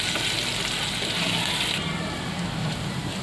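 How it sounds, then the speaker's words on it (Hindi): Chopped garlic and ginger fry in oil over low heat, giving a continuous close hissing sizzle that softens slightly partway through. "लहसुन और अदरक अच्छे से फ्राई हो चुके हैं।"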